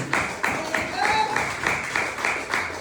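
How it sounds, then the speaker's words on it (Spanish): A church congregation claps for Jesus Christ, steady rhythmic applause with regular beats at an even tempo, filling the room and heard over a voice speaking in Spanish. "¿Cuánto le damos aplausos a Jesucristo porque vive?"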